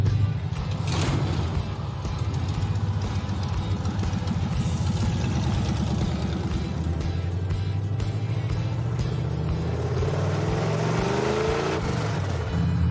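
A 1978 Chevy El Camino with a swapped-in diesel engine idles loudly and steadily right up close, a deep mechanical rumble with some creaking and a rising whine near the end.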